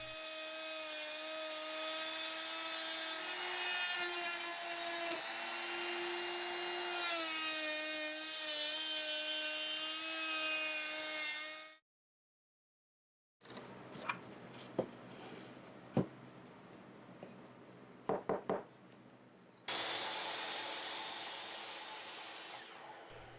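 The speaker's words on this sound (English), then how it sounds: "The hole is cut in 3 passes, dropping the bit about 1/8 of an inch with each pass." A router bit cuts the hole in a wooden cornhole board, a loud, steady high whine for about twelve seconds, then a silent break, scattered knocks and clicks, and finally the whine starting up again.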